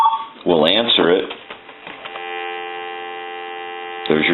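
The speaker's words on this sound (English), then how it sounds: "There's your dial tone." A steady, continuous dial tone hums from a Mickey Mouse AT&T 210 telephone receiver after someone speaks, holding unbroken for about two seconds before his voice returns.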